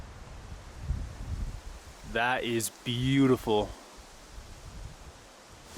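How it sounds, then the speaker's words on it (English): Wind gusting across a mountain lake at sunrise, a steady broadband rush with soft rustling throughout, while a person speaks briefly midway. "it is really windy"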